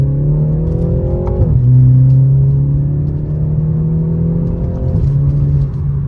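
A BMW G20 exhaust drones loudly through a gentle manual-mode pull, with a low steady tone that shifts pitch at each gearchange and a continuous close rumble.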